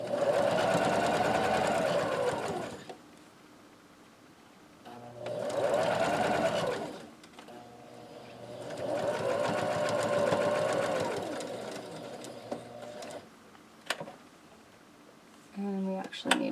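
A sewing machine stitches a hot pad in three separate bursts of steady mechanical whirring, close and fairly loud, with quiet pauses between runs and a little handling noise near the end.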